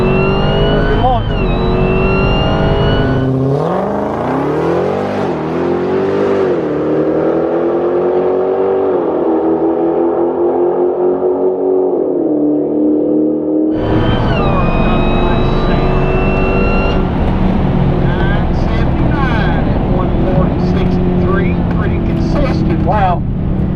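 Dodge Hellcat Challenger launching down a drag strip, an engine roaring up through rapid gear shifts with pitch sweeps, a loud, close, high-revving run that fades and returns, a voice speaking over it.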